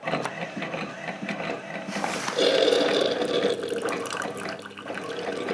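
Keurig Vue V500 single-cup coffee maker brewing a 10-ounce cup of tea, a steady gurgling stream of hot water with pump hum that swells midway and holds, close and moderately loud with no talking.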